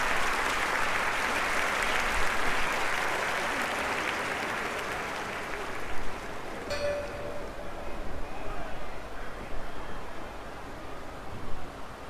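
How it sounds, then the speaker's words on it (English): Steady applause from a large stadium crowd at a London 2012 athletics event, a dense wash of clapping that softens partway through, with scattered cheers and a brief call rising above it. "Plenty of crowd support here."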